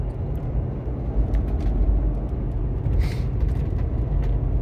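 A 2007 Toyota FJ Cruiser cruising steadily at 40 on cruise control, with a constant low engine and road rumble filling the cabin and small ticks and bumps over it, no one talking.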